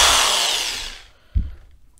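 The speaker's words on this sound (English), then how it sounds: "Got my drill, I'm just gonna place in the center here." A power drill whirs loudly into the center of a hollow plastic Hasbro Ghostbusters toy vehicle, then spins down and fades, followed by a single dull knock.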